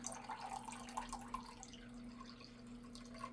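Canned V8 juice trickles and drips into a container, a quiet, uneven liquid pour heard close up with no talking.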